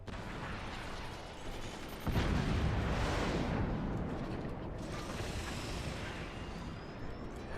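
Heavy howitzer artillery fire in a fortress-battle video game, a dense rumbling barrage with a sharp, loud boom about two seconds in, followed by sustained crackling and rolling blasts.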